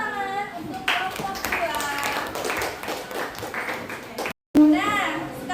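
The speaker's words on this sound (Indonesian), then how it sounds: "Beri tepuk tangan untuk kelompok" A classroom of students claps for a student group, quick hand claps mixed with children's voices calling out, broken by a brief silent gap near the end.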